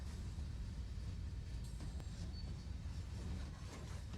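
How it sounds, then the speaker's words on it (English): Heavy low rumble of a train slowing in Train Sim World on the Northeast Corridor near New York, steady loud mechanical drone with faint brake hiss and a few squeals, no talk. "Train comes to a halt. Hopefully. Braking in."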